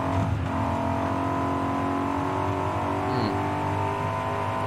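A Corvette's engine revs hard in the racing game Forza Horizon 5, a loud, steady drone with rising harmonics that holds close and continuous throughout, with no talk over it.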